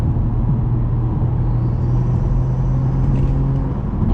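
A BMW 440 drones steadily with engine and intake noise while driving, a low, even hum, loud and close from inside the cabin, with no talking.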